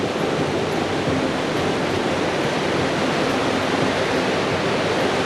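A wild mountain river on the hike up Musala, Bulgaria's highest peak, rushing loudly and continuously close by, a dense unbroken roar of white water with no pauses.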